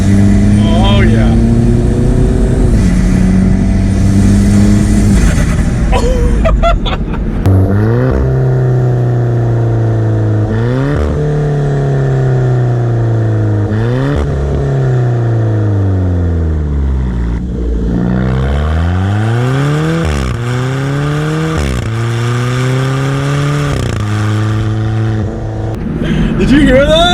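An Alfa Romeo 4C sports car in manual mode pulls away from second gear, its engine revving up and down through several climbing and falling sweeps, loud and close from inside the cabin, with someone talking over it.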